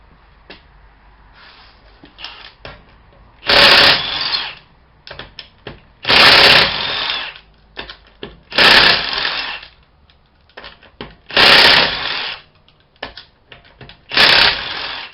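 An impact wrench takes a wheel off a 2014 Dodge Avenger in five short, loud bursts of rattling hammering, with quieter clicks and handling noises in the gaps between them. No one talks.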